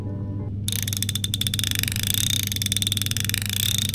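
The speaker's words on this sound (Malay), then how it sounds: "So kita dengar dia punya bunyi clicker drag guys" The drag clicker on a Seasir Zero-VX baitcasting fishing reel starts after a brief lead-in, producing a rapid, close, steady train of sharp ratcheting clicks that continues to the end.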